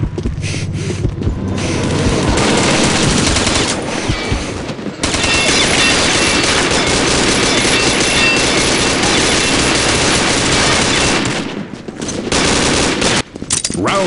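Sustained loud gunfire, dense rapid shots blending into a continuous roar for several seconds, broken by brief pauses at the start and near the end, close and harsh.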